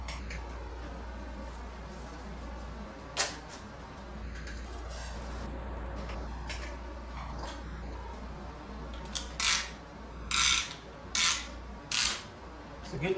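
Piston ring compressor ratcheted tight around the rings during a 2008 Chevrolet TrailBlazer SS engine rebuild; a few sharp ratcheting bursts come in quick succession near the end, over a low steady room hum.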